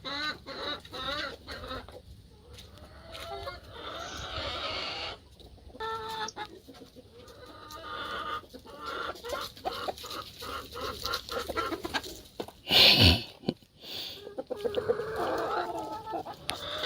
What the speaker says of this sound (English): We've got several different breeds of hens and roosters